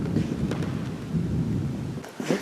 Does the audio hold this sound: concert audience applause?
no